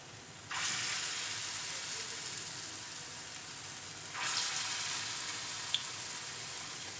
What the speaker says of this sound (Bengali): এইগুলো ফ্রাই প্যানে ভাজতে আরম্ভ করেছি।